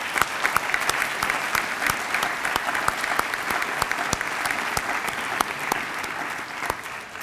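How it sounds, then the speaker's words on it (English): Sustained audience applause at a school cum laude ceremony, steady dense clapping from a seated crowd for the full stretch, fairly even and moderately loud with a few sharper individual claps standing out. "please also join me in a big round of applause for all of your teachers, your parents, siblings, grandparents, other relatives,"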